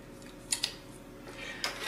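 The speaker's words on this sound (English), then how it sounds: "Need to cut here." Scissors snip through the packaging of an Arduino display evaluation board: two faint, close, crisp cuts, then a longer slicing rasp ending in another snip, quiet and alone.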